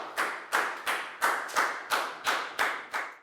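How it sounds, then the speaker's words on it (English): A Year 4 class claps in a steady, evenly spaced rhythm, about nine sharp claps in a row, close and crisp with no talking. "Give yourselves all a big round of applause"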